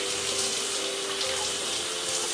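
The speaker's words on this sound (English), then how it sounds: "We're going to rinse it off." Steady running tap water splashes over split pork ribs being rinsed in a kitchen sink, a continuous close hiss with no talk.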